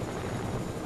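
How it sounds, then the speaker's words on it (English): A helicopter in the video game Fortnite produces a steady, close, whirring rotor drone with a dense broadband rumble that continues throughout the brief moment. "I'm just getting back to the chopper."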